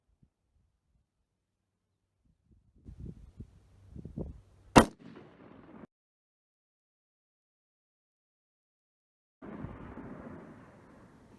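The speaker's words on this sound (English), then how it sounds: "So, 3 shots in less than a minute." A single sharp rifle shot fired at long range from a shooting bag rest cracks out loudly, followed by a short echo. Faint handling sounds come before it, and a stretch of wind or rustle follows later.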